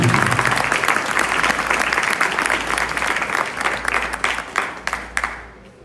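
Warm applause from a seated audience at a formal conference event greets a Spanish consul taking the stage, dense steady clapping that swells and then tapers off near the end.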